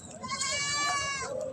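A goat at a crowded livestock market bleats in one long, wavering, nasal cry lasting over a second, loud and close, over a low background murmur.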